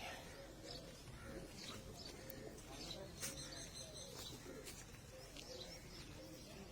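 Two pet pigeons, a teddy female and a double-crested female, settle onto a perch at around five in the evening, giving soft cooing calls through steady background noise while a voice talks.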